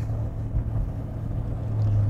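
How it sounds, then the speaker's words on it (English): A 1931 Plymouth street rod cruising along with a steady, low engine rumble that holds close and fairly loud throughout, swelling slightly near the end. "Little street rod driving sweet."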